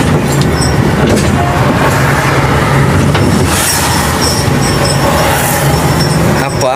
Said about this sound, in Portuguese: O caminhão que tá aqui puxando ele.